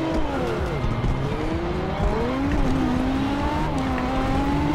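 Race car engine fitted with a titanium exhaust in Forza Horizon 2, a steady loud roar revving up and down through the gears, with faint tyre squeal beneath and no talking.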